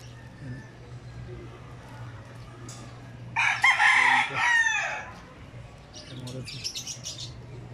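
A native-breed rooster crows loudly once, nearby, amid scattered clucking and chirping from chickens and other birds.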